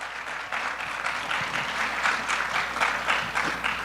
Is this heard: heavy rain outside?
no